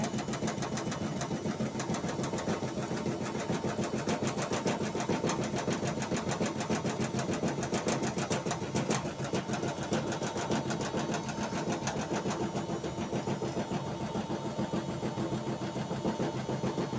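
A washing machine runs steadily with a dense, continuous mechanical whir and rapid rattling pulses, loud and close, with no clear pause throughout.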